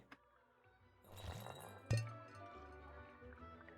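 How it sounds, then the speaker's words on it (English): Glass bottles clinking in a video game, a few crisp chinks with the loudest knock just before the midpoint, ringing over a low background hum. "Old glass bottles. Looks like they've all been salvaged from the ocean."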